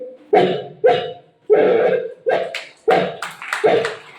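A voice imitates a dog barking, a series of about seven sharp, loud barks in an uneven rhythm, close by, as part of a multi-voice mimicry performance at an arts festival.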